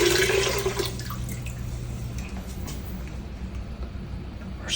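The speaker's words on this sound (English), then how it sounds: "Add our 8 cups of" Water pours into a cooking pot for beautyberry jelly, with a strong splashing stream at first that settles into a softer, steady trickle, heard alone without talk.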